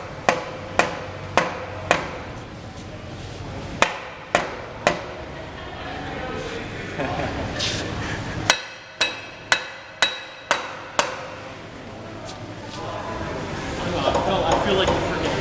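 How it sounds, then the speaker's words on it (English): Heavy sledgehammer blows strike a pump casing to knock it loose during a pump seal replacement, sharp metallic whacks in irregular bursts of several hits with pauses between, loud and close, with people talking in between. "where's your sledgehammer?"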